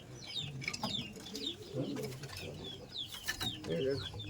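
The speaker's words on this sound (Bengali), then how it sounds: "এটা মেয়ে মেয়ের ঘরে পায়রা আছে মাদি পায়রা আছে" Pigeons in a loft of female birds, with scattered soft coos, wing flutters and chirps close by, and low murmuring voices in the background.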